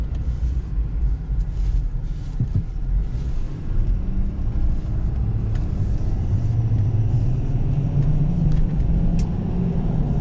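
A 2016 Ford F250 Super Duty 4x4 with a 6.7 L Power Stroke turbo diesel heard from inside while driving, a steady low rumbling drone with mild surges in engine note, no talking.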